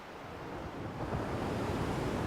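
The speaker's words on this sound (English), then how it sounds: "Radhanagar Beach at sunset." Ocean waves wash onto Radhanagar Beach in the Andaman Islands at sunset, a soft, continuous surf hiss that swells slightly louder partway through, with light wind noise and no voices.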